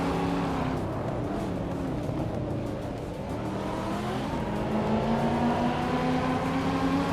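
Several race cars in a racing video game roar past each other while overtaking, steady loud engine drone with rising and falling pitch throughout, no talk.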